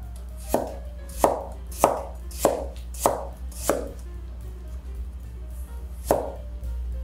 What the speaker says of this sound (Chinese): 红萝卜切末，先切片